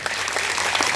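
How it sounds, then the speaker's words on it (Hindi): A congregation at a church meeting claps together, a brief stretch of dense, ongoing applause in the room. "परमेश्वर के लिए तालियां हो जाएं।"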